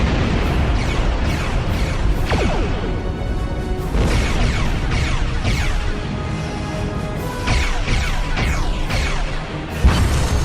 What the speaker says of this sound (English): Ship explosions cause damage.